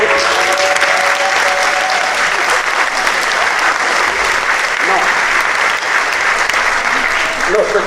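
An audience at the Taizé 2025 New Year closing Mass in Val d'Orge breaks into sustained, dense applause, loud and steady throughout, with a voice faintly heard at the start.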